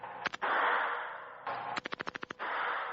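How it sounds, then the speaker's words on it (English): A machine gun fired at a Las Vegas gun store, with a short two-round burst and then a longer rapid string of about eight shots, loud and close over a steady hiss of range noise. "try to check out a machine gun and see if I could shoot a round or two"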